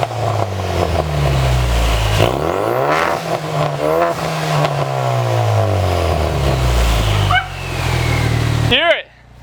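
A Ford Mustang fitted with a 3-inch turboback exhaust is revved repeatedly. Loud, throaty engine swells rise and fall, with people talking over it, before the engine cuts off sharply at the end.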